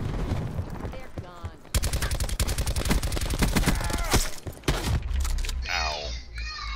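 Gunfire in a Black Ops 4 gun game match, including shotgun blasts, crackling in quick dense bursts across most of the stretch, mixed with game effects and heard alongside a voice.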